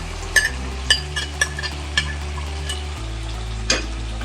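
Chilli chicken with capsicum, green chilli and onion being stir-fried in a pan: a steady sizzle broken by a few sharp scrapes and clinks of the spatula, with a low background hum and no talking.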